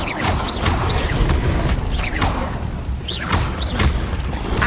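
Confringo blasting spells explode repeatedly in Hogwarts Legacy, a dense, loud roar of booming impacts and whooshing magical bursts recurring roughly every second with no pauses.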